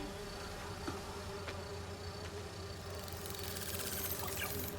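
Steady insect buzzing from virtual bee wolves in Marvel's Spider-Man 2, a continuous droning hum of wings that holds at an even, fairly close level throughout, with a few faint clicks and game sounds beneath it.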